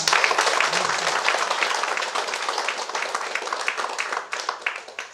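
An audience at the release of the book Mussanje Yalli Ondhu Baravase bursts into dense, sustained applause that fills the whole moment, loud and close, with scattered voices underneath.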